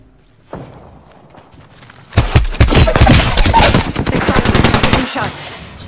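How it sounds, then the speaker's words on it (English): Rapid gunfire erupts in the video game Apex Legends, a dense loud burst of automatic shots following quieter footsteps and movement, alone without talk. "They're firing. Taking shots."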